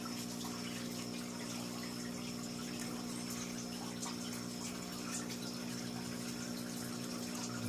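Aquarium power head filter in a bottle with a trickle extension, pushing water through a sponge and up through holes; a steady low motor hum under a continuous soft gushing trickle, unchanging throughout.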